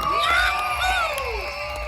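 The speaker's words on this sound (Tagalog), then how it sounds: "Magpalakpakan na may kasamang sigawan!" A crowd at an event in Africa cheers, whoops and yells loudly and continuously, with piercing high shouts rising over the steady roar of voices.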